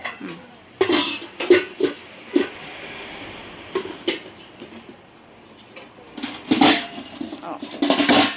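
Brass, bronze and copper kitchen vessels at a shop in Malleswaram, Bangalore, clink and knock as they are handled and stacked, giving sharp metallic taps and rattles in bursts while a person talks.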